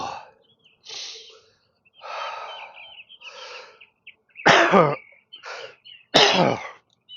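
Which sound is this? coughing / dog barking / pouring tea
coughing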